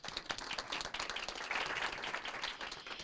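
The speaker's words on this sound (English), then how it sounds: "Let's give them another round of applause." A city council meeting audience gives a round of applause for the Parks and Recreation team, a moderately quiet, uneven patter of clapping that swells midway.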